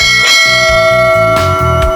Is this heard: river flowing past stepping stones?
no